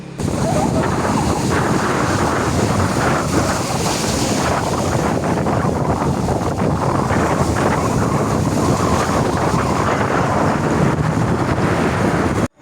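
Boats on open water at the start of a boat race, with steady wind buffeting the microphone and broad rushing water and wave noise throughout, loud and continuous with no clear talk.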